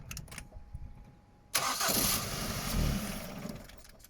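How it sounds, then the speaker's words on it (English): A Ford Mondeo engine with an immobiliser fault cranks and catches with a sudden roar, then settles into a steady running idle, fairly quiet and nearby. "You just listen to how quiet this engine is when it's running."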